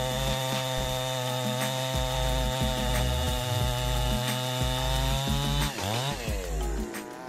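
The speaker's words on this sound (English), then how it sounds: "a formidable chainsaw powered by advanced technology. This machine cuts logs with ease." A Stiefel 400s chainsaw cuts through logs, its loud, close engine holding a steady buzzing whine that dips and rises as the chain bites into the wood, with no talking.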